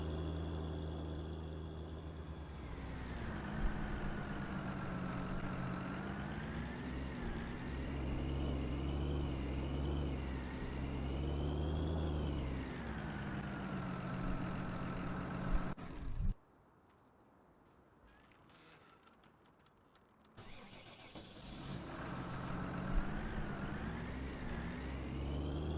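Small tractor engine in Farming Simulator 19, a steady droning rumble that rises and falls in pitch, cutting out briefly before resuming, with no talk over it.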